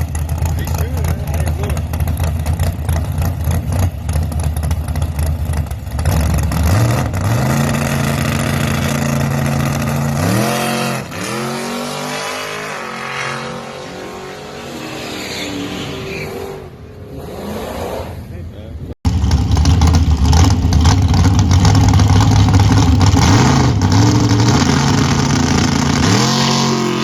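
A drag racing car's engine roars loud and close through a line-lock burnout, revving hard with rising and falling pitch, then blasts louder on the pass, while people shout and talk over it.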